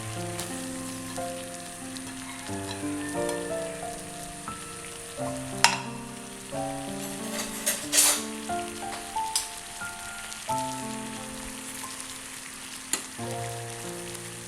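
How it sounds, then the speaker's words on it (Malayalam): Water heated for hibiscus squash boils hard in a pot, producing a continuous bubbling, crackling hiss with occasional sharper pops, heard up close over a steady tonal background melody. "ഇപ്പോൾ നമ്മുടെ വെള്ളം നന്നായിട്ട് വെട്ടി തിളയ്ക്കുന്നുണ്ട് കേട്ടോ"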